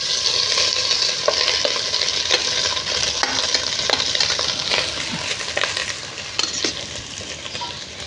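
Rice stirred and fried in ghee in a hot kadai gives a loud, continuous sizzle, with repeated scraping and clinking of the spatula against the pan close by.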